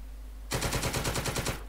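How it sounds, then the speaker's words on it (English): A Sherman tank in a war video game lets off one sustained burst of rapid automatic fire, loud and close, with the shots running in a quick even rhythm for about a second before cutting off. "Sherman did some defensive fire."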